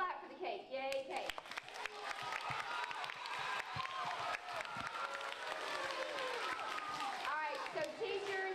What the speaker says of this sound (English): you can clap for the cake